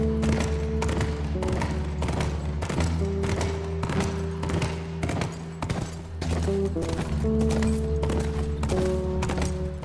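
Horse hooves clip-clopping in The Last of Us, a steady run of sharp hoofbeats under sustained tonal background music, continuing for the full length without talk.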